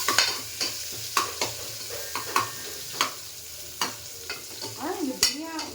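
Onions frying in a pan for a tomato biryani, with a spoon scraping and stirring in sharp, repeated strokes over a steady low sizzle, close and clear with no talk.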